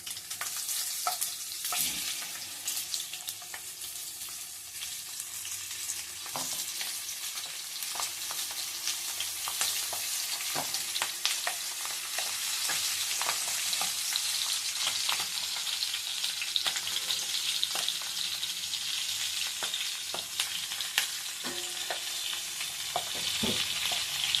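Oil sizzles and crackles steadily as stuffed capsicum fries in tempering, with sharp pops and occasional stirring scrapes, close up and with no voices.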